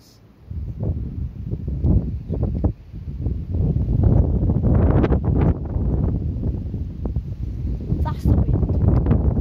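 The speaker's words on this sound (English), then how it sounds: "That's the wind. Okay, that's the wind." Strong gusting wind roars through a Christmas Eve storm, a dense, loud rush that swells and persists for several seconds with brief louder bursts, heard alone without talk.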